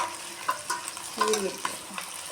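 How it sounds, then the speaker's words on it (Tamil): Whole green chillies dropped into hot oil with curry leaves for a Tamil fish curry made with murrel fish, giving a short, close crackling sizzle with a few stirring scrapes. "பச்சை மிளகா போட்டுக்கிறோம்."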